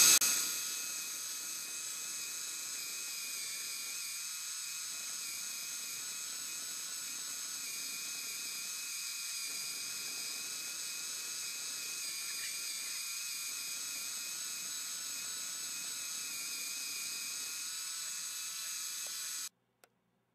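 A belt and pulley mechanism turns counterclockwise with a steady, high mechanical whir and faint periodic dips in a low rumble, then stops abruptly at the end.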